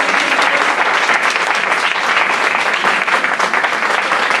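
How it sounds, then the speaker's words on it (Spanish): An audience at an Asturian film festival awards ceremony applauds six nominated actresses with loud, dense, sustained clapping that fills the hall evenly from start to finish. "un aplauso para todas ellas"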